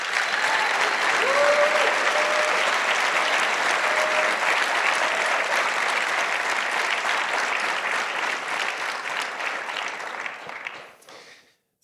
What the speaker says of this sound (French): je pense qu'on peut les applaudir vraiment très fort